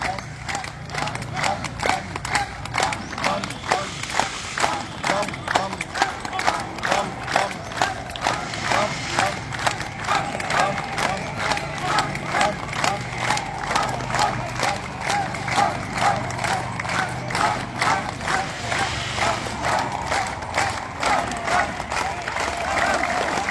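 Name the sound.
hands clapping loudly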